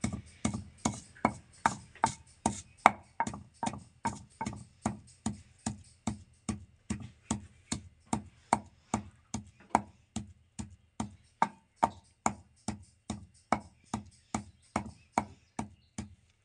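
Chillies with salt pounded fine in a kundi sota mortar and pestle for desi onion chutney: a steady, close run of evenly spaced dull thuds, about three per second, with no talking.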